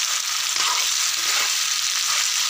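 Mutton sizzles and fries with onions in a pan for a Bihari-style mutton curry, a steady close, dense crackle with faint stirring running throughout and no talk.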